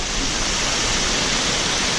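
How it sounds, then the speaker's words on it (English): Steady, loud rush of a waterfall on a wild river during a tubing ride in Bryson City, North Carolina, a dense continuous roar filling the whole clip with no pauses. "There's waterfall."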